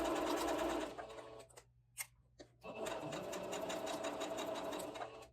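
A sewing machine stitches a knife pocket in fast, close bursts of rapid needle clatter, pausing briefly midway with a few clicks before running steadily again.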